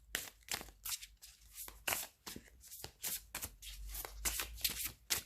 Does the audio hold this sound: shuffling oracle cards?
yes